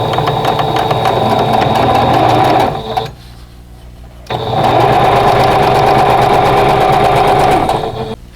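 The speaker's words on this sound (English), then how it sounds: "So let's go to the sewing machine and start doing that." A sewing machine chain-pieces quilt block units, running loud and steady in two long bursts with a short pause between them, no voices.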